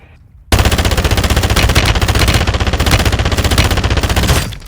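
Assault rifle fire from Call of Duty Warzone 2.0, a new Season 5 AR: one loud, unbroken rapid-fire burst of about four seconds that emptied the magazine, heard alone with no talk.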